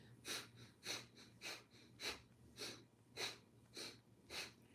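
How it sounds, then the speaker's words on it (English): Breath of fire in Kundalini yoga: eight sharp, evenly spaced nasal exhalations, roughly two per second, each a breathy hiss. They are close, soft and regular, with quiet gaps between them. "Inhaling and exhaling, short sniffs in and out through the nose."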